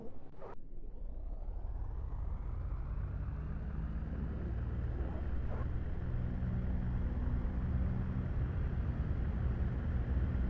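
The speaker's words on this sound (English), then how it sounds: "And then we'll start the engines." Airliner engines spooling up in the X-Plane 11 flight simulator, a steady rising turbine roar with a sharp click near the start, building into a loud continuous drone.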